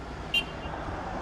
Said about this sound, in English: Okay, enough with the horns, man.